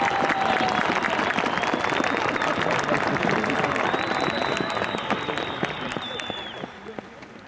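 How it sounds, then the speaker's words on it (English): Sustained applause from a large crowd at a college band performance, steady clapping that slowly tapers off, with a few voices mixed in. "Let's have another round of applause for this fine band."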